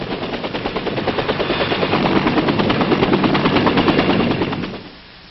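A helicopter at a forward-area refueling pad: loud, close rotor chop in a fast, steady thumping rhythm that holds, then quickly fades away at the end.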